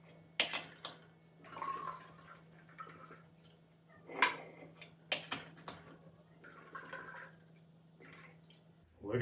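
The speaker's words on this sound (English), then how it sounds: "we need some pineapple juice. These are pre-measured, so I'm just gonna pour them both in" Pineapple juice poured from two small containers into a margarita pitcher, intermittent splashing and glugging bursts separated by pauses, soft and close.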